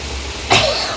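A single short cough rings out close by, one sharp burst that fades quickly into a quiet background.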